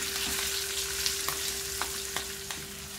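Fish sizzles in hot coconut oil with curry leaves, an even crackling hiss with a low steady hum underneath and a few soft taps from a utensil spaced through the sound.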